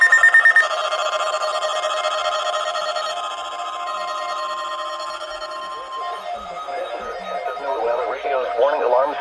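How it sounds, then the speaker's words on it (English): Emergency Alert System attention signal during a weekly test: a steady, loud two-tone alarm holds for about six seconds, then breaks off into a garbled, warbling data burst, with no voice over the tones. "The attention signals you just heard will automatically activate special receivers to warn of the impending hazard."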